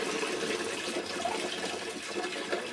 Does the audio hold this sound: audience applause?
no